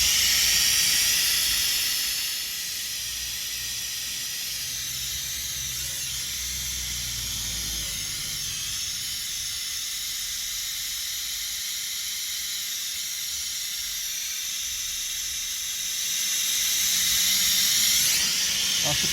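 A pneumatic brake bleeder hissing in a steady, loud rush of air that holds for most of the time, with a brief dip early on and a swell near the end.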